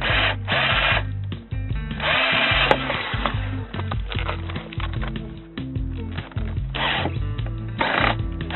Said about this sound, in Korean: 그러면은 드릴 비트로 여기에 맞는 구멍을 일단 뚫겠습니다.